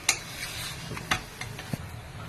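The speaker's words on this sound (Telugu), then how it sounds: "ఇప్పుడు ఈ కట్ చేసుకున్న జుగుని ముక్కలన్నీ వేసేసుకున్నానండి. తర్వాత కలుపుకొని" Zucchini pieces being stirred into a curry in a pan with green and dried chillies, giving a few soft scraping knocks of the spoon against the pan over a faint sizzle, close and quiet, with no talking.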